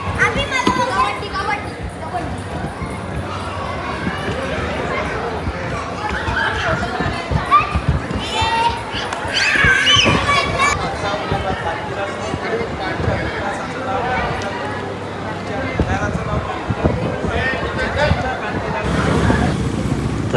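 A large crowd mills around at the Panvel Ganpati darshan, with a constant, close hubbub of overlapping voices, children and footsteps. People nearby talk throughout, and the babble swells near the end.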